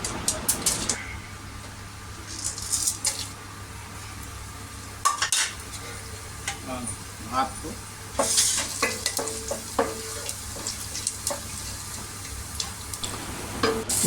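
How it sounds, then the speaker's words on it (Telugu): Biryani spices fry in hot oil in a pot while a spoon stirs them, a steady sizzle under intermittent scraping and clinking strokes, close and clear, with no talking. "ఇప్పుడు బిర్యానీ సామాన్లు మసాలా వేసుకుందామండి ఆయిల్లో"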